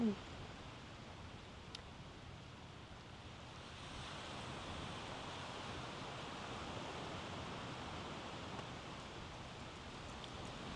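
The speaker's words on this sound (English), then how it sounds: "For me, I hear the sound of waves, wind," Ocean surf and wind on the coast at Hội An, Vietnam: a soft, steady wash of waves with a faint rushing breeze, distant and low in level, continuous without distinct breaks.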